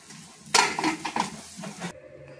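A pot of Kolhapuri whole masoor curry cooks on a low gas flame. A spoon scrapes and clinks against the pan for about a second and a half over a soft sizzling simmer, then the quiet bubbling carries on alone.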